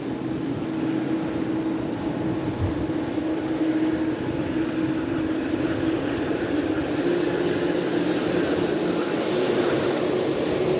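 Boeing 787 Dreamliner airliner with a steady, continuous engine drone holding at an even level throughout, a brighter hiss rising partway through as it runs on nearby.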